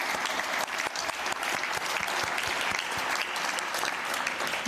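Sustained applause from a large audience at the World Boxing inaugural congress, a dense, steady roar of clapping hands that fills the whole stretch without pause.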